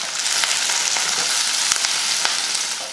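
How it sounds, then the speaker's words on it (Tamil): Mustard seeds, curry leaves, onion and green chilies fry in hot oil with a loud, close, continuous crackling sizzle and scattered sharp pops, no voices over it. "எண்ணெய் காஞ்சதுமே கொஞ்சம் கடுகுழுந்து கடுகு பொறிஞ்சதுமே கொஞ்சம் கருவேப்பிலை கொஞ்சம் வெங்காயம் ரெண்டு பச்சை மிளகாய்"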